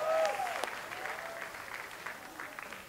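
Crowd applause at a live music gig in Jakarta, welcoming a guest performer to the stage, steady and fairly distant with a brief whistle and a few cheers near the start, fading slightly over three seconds.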